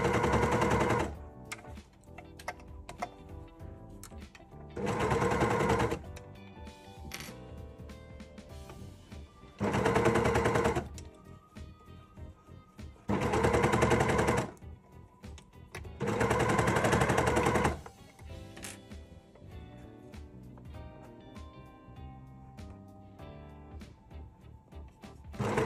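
Overlocker stitching sweatshirt fabric in several fast, loud machine-gun-like bursts of a few seconds each, separated by quieter pauses of handling noise, close to the microphone with no talk.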